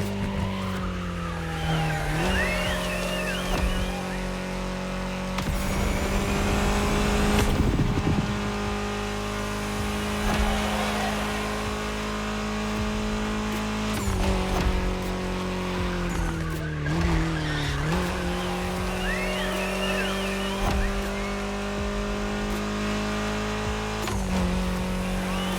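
Car in The Crew Motorfest racing game driven flat out near 150, a loud sustained engine drone rising and falling through gear changes, with tire squeal and skidding bursts along the way.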